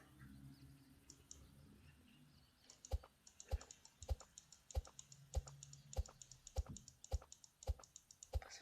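Computer keyboard keys clicking during typing, a steady run of sharp, fairly evenly spaced taps close to the mic after a quiet start, with faint background tones and no speech.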